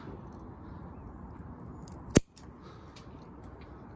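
A single sharp snip of pruning shears cutting a rose stem back to a few buds in a winter front-yard flowerbed, close and crisp over quiet outdoor background noise.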